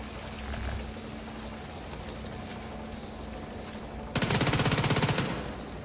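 Automatic gunfire in The Division 2 video game, a loud rapid burst of evenly spaced shots near the end, over a steady rumbling background of game ambience with faint earlier reports.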